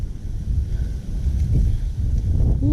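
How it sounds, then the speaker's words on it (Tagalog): Gusty wind buffets the microphone with low, uneven rumbling that swells and eases over a few seconds. "Hangin."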